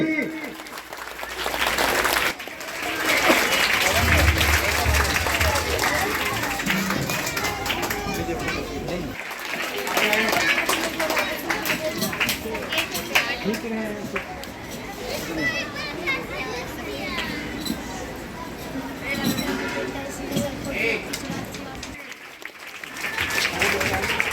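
Loud, sustained applause rises from a crowd at a primary school's Independence Day celebration, mixed with children's chatter, cheering and someone speaking over it.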